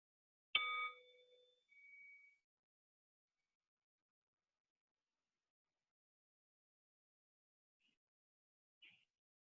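A meditation bell struck once to open a sitting practice rings out clear and quiet, its bright tone fading over about a second, followed by a soft echoing hum and a faint later tap in near silence.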